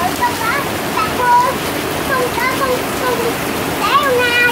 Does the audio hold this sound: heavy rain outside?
yes